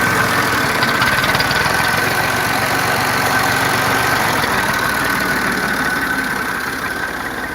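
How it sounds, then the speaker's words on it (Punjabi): A tractor engine runs steadily and loudly close by as the tractor turns in a Punjab village, its even mechanical rumble continuous throughout and easing slightly at the end. "ਵੇਖੋ ਕਿਸ ਤਰ੍ਹਾਂ ਟਰੈਕਟਰ ਨੂੰ ਘੁਮਾਉਂਦਾ ਹੈ"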